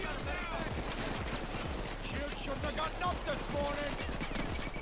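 Rapid automatic gunfire in the heist shooter Payday 2, a steady rattling stream of shots with metallic impacts over a low rumble, continuous and fairly close, with a voice faintly under it.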